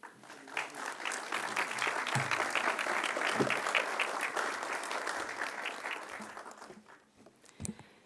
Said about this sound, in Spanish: Para ella pido un fuerte aplauso.